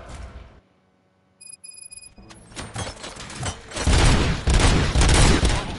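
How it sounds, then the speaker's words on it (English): Rapid bursts of gunfire in the video game RoboCop: Rogue City crackle loudly after a brief quiet stretch with a few electronic beeps, building into a dense, continuous barrage. "Gunshots?"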